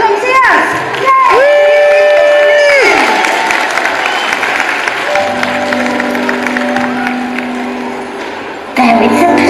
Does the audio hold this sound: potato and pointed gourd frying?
no